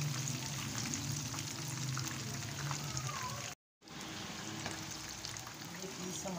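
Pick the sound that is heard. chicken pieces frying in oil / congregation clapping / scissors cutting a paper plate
chicken pieces frying in oil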